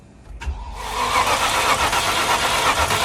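A Range Rover P38 that had sat unused for a while cranks briefly, then catches and starts, settling into a steady, loud running idle close by.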